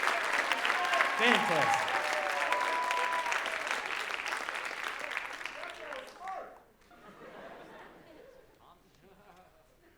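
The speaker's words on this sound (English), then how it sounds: "Round of applause." A school audience at a writers' week talk breaks into loud, sustained applause with chatter, which tapers off after about six seconds into quieter crowd murmur and a brief spoken word.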